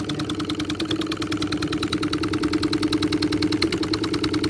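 A hit-and-miss stationary engine with a spark governor runs at a vintage power show, thumping in a rapid, steady, regular rhythm close by, its beat growing slightly stronger toward the end.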